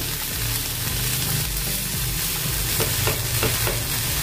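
A semolina (rava) uttapam frying on a pan just after being flipped: a continuous close sizzle with faint crackles and light scraping, and no speech.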